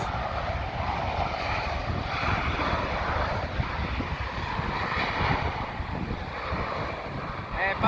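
A British Airways airliner approaching to land at Gatwick makes a steady, fairly loud roar of jet engines with wind buffeting, sustained throughout and heard alone.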